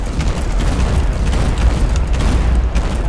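Tank cannon fire in the video game War Legends: a continuous rumbling barrage of booming blasts with low heavy thuds, loud and close, with no voices.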